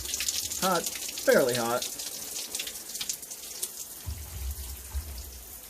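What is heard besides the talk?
hot water running from a tap, with air in the line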